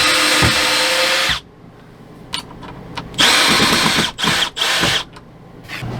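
A power drill backs screws out of a fixture, loud close whirring bursts of varying length separated by short pauses, with no talking.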